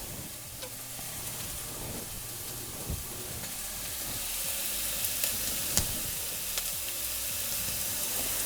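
Onion fries in a pan with a steady, close sizzle and hiss, broken by occasional soft clicks and scrapes of stirring.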